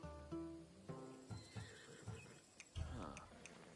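A horse in the video game Assassin's Creed Odyssey gives a loud, clear whinny, followed by a few hoof clops and a snort, close and up front with faint game ambience.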